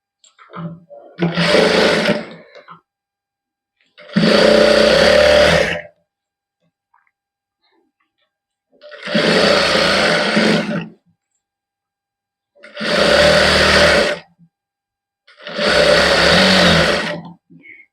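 A sewing machine stitches the shoulder seam of a homemade warm undershirt in five separate bursts, each a loud, close, buzzing run of about one to two seconds with silent pauses between.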